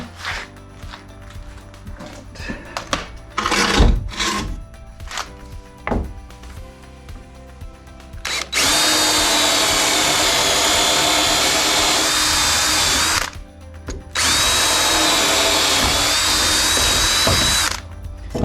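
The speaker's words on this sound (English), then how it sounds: "I'll just grab a drill, which is here" A power drill drills through wood in two long, loud sustained bursts, preceded by clattering and handling noises of tools being picked up, during barn rebuilding.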